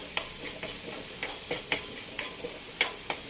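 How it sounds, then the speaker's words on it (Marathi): Spice paste fries gently in a pan over a gas flame under a steady soft sizzle, while a utensil scrapes and stirs it in regular, evenly spaced strokes, close and alone. "एक दोन ते तीन मिनटं आपण पेस्ट बारीक गॅसवरती ठेवून द्यायची आहे थोडासा लालसर कलर येईपर्यंत आपण पेस्टला स्टर करत राहायचं आहे"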